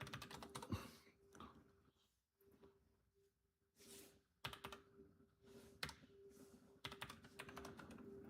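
Typing on a computer keyboard inside a store, with bursts of quiet key clicks that come and go, broken by short pauses, over a steady low hum.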